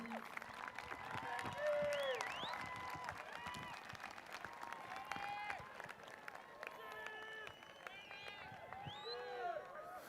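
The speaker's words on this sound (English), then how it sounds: "Students, please stand up and applaud your parents." Graduating high school students stand and applaud their parents in the stands at an outdoor graduation ceremony, a broad wash of clapping mixed with cheers, whistles and crowd chatter, with a voice over a loudspeaker speaking above it.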